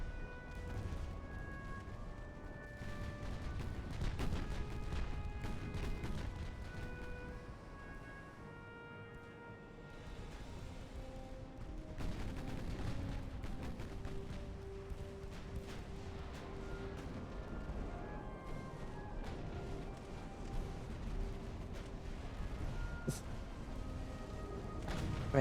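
Warship guns firing during a naval battle in Ultimate Admiral: Dreadnoughts: distant, fairly quiet thuds and cracks scattered over a steady background of sustained tones and game ambience.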